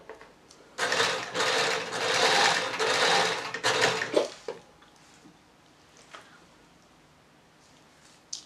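Sewing machine stitching fabric for a box pleat skirt, a close, rapid mechanical whirring burst lasting about three seconds, then stopping, followed by quiet clicks and handling noises.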